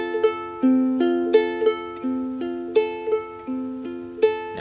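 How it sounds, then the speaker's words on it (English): Ukulele fingerpicking pattern for a song, played alone and close: plucked single notes in a steady repeating rhythm over changing chords, each note ringing and decaying. "We also practice the fingerpicking pattern, which will sound like this."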